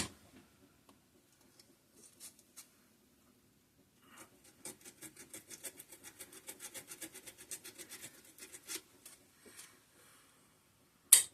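Sandpaper rubbed back and forth on a part of an old Kohler K241 engine after long storage, quiet at first, then a steady run of soft rhythmic scratchy strokes in the middle, ending with a sharp knock.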